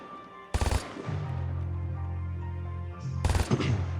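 Two short, loud machine gun bursts in a war game, each a rapid cluster of shots, with a low humming drone in between.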